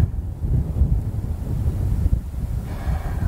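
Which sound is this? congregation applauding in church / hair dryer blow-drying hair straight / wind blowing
wind blowing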